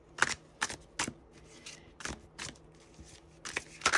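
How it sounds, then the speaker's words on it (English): Tarot cards from a Key Oracle deck being shuffled by hand, a series of separate crisp riffling bursts close to the microphone with brief pauses between them, and no talking over them. "Shuffling is not the easiest thing for me."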